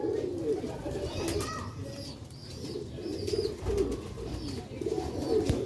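Soft, repeated pigeon coos murmur over steady background noise, with a few faint bird chirps scattered through.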